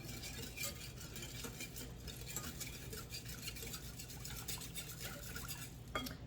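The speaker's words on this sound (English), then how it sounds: "Mix it up good." Milk and butter are mixed in a bowl for sourdough rolls, a steady close scraping and stirring that keeps going the whole time with no talk, ending in a brief sharper knock.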